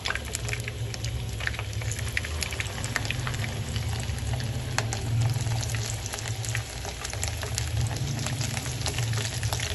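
Ring samosas frying in a pan of ghee, giving a steady, dense sizzle and bubbling that fills the whole stretch, close and continuous with no voices over it.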